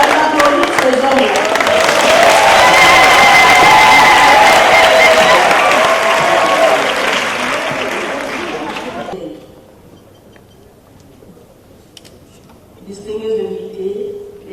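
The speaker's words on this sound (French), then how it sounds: "Applaudissez pour vous-même." Loud, dense applause and cheering from a large audience at a formal French-language address fills the first nine seconds, then fades to near silence before a voice begins speaking near the end.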